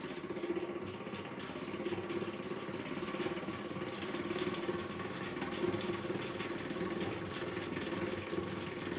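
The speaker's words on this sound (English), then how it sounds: "Then yes, I'll wash my hands." Tap water runs steadily in a broad, even rush for several seconds while hands are washed, close and continuous with no talking.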